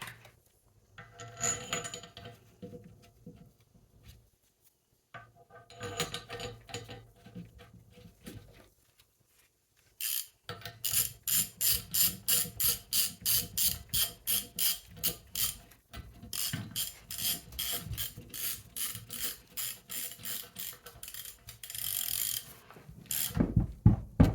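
Ratchet wrench snugging down brake caliper mounting bolts on a caliper bracket: bursts of quick, close mechanical clicking, with a long steady run of rhythmic ratchet strokes near the middle and another toward the end.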